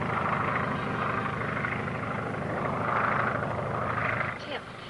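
Steady propeller-plane engine drone from a 1941 serial as the aircraft climbs over mountains to 12,000 feet, a continuous loud hum that dips briefly near the end.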